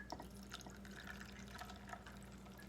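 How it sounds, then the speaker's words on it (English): Coffee poured over a caramel milk mixture in a glass for a caramel macchiato, heard as faint, quiet trickling and light dripping that continues steadily, with no voices. "carefully pour your beautiful coffee over this mixture"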